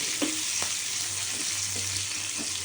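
Hot cooking oil, a full ladleful, sizzling steadily in a pan, a close, continuous hiss with a few light clinks of a utensil.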